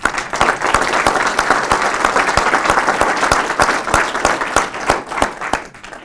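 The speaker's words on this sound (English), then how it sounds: "Give yourselves a round of applause, please." Dense applause fills the room at a professorship and recognition celebration as attendees stand, many hands clapping in a steady, loud wash that tapers off at the end.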